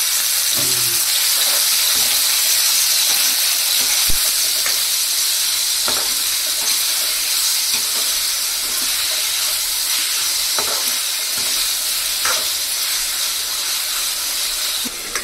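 Tomatoes sizzle in hot oil for a pepper chicken gravy, a steady bright hiss running throughout, broken by occasional clicks and scrapes of stirring, with no voices.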